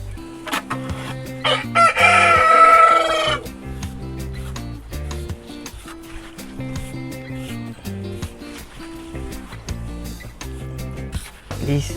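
A hoarse rooster crows once near the start, a rough, breathy call, followed by steady clucking and chatter from surrounding fowl.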